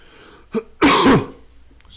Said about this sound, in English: I'll try and remember to cough away from the microphone